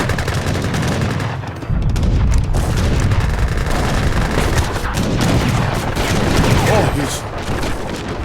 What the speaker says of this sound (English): I start bombing it with mortars